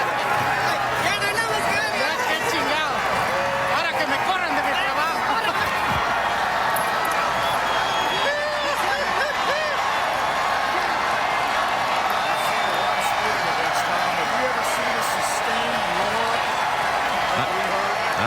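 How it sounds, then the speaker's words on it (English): A huge crowd at the Belmont Stakes horse race roars continuously and loudly, a sustained wall of cheering and hubbub as the Triple Crown is won, with a commentator talking over it. "the noise from this crowd was deafening. I don't think I ever have heard as sustained a roar from a crowd at any sporting event"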